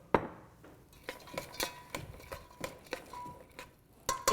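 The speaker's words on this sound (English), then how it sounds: "And you just give it a little stir." Metal utensil scraping and clinking against a pan while stirring onions, in a series of short, uneven strokes, with a faint sizzle underneath.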